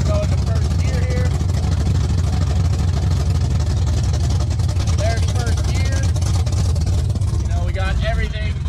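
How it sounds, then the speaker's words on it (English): A car with its exhaust disconnected runs loud and raw in first gear, a constant heavy roar and rumble with the clutch pedal faulty, while someone talks over it. "I don't have the exhaust hooked up, guys, so that's kind of why you're hearing it as loud as you're hearing it."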